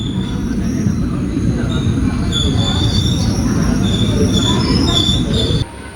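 The Tea Garden Express rolls into Aluva railway station with high, piercing wheel squeals over a heavy rumble, loud and close, the squeal coming in repeated shrill bursts.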